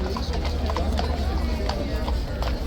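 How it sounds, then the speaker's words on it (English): Hooves of the mounted guards' horses clip-clop on pavement at Horse Guards in London, a steady run of sharp, close knocks over a low background rumble, with people talking. "Beautiful horses, though, really magnificent."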